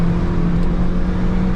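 Honda Civic FN2 Type R making a second-gear downshift in traffic, heard from inside as a loud, steady engine drone with a strong low hum throughout.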